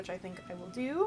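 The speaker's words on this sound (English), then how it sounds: "That's my cat meowing in the background." A pet cat meows in the background of a home kitchen where vegan caramel apple hand pies are being made, with one rising meow at the end under a person's nearby talking.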